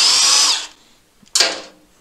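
A handheld power tool whirs in two short, loud bursts separated by a pause while stator nuts are being removed from a Triumph Trident T160 motorcycle engine.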